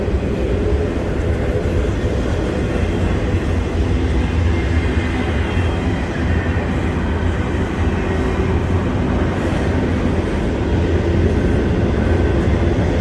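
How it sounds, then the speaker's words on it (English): A train rumbles steadily past on railroad tracks, a loud continuous low roar with rattling wagons that holds at the same strength from start to finish, with no voices. "I think this is my train here."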